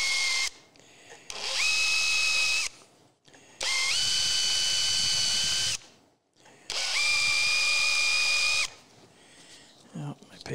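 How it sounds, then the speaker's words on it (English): A power drill drilling wood whirs in three long bursts, its pitch rising as it spins up and grinding steadily, separated by short pauses. "depending on the angle that you hold your drill at, you can have different shapes"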